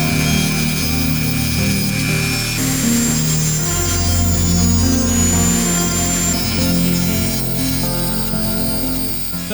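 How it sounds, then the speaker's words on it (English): Wooden skewer ends being trimmed off while building hardscape for a vampire crab rainforest terrarium, a steady, close rasping and rubbing sound like fine sawing that continues through the whole stretch without pause, with no talk. "we do need to trim off all the excess skewer endings again"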